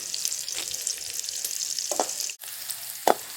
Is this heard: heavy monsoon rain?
no